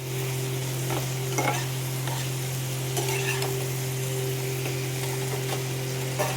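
Spices with tomato and turmeric sautéing in a pan make a steady loud sizzle with a low constant hum underneath and intermittent scraping stir strokes, no speech.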